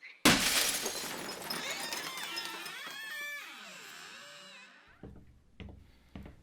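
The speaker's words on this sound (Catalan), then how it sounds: "el que ha trencat el vidre" Glass shatters loudly with a sudden crash, followed by a long ringing, scraping tail of falling shards that fades out, then a few sharp knocks at the end.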